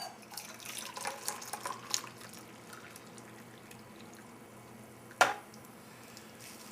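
Hot water poured from a kettle over a tea bag in a mug, a soft trickling pour in the first couple of seconds, then quiet with a single sharp clink of the cup.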